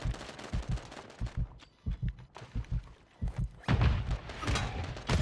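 Rapid bursts of Call of Duty gunfire thump in short groups, then a heavier, sustained blast of grenade explosions swells near the end, loud and close.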